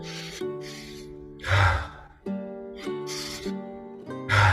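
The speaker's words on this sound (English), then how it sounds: "Notice I'm breathing into the nose." Deep inhalations through the nose during a guided breathing meditation, with a few drawn, airy breaths rising and falling over soft sustained background tones.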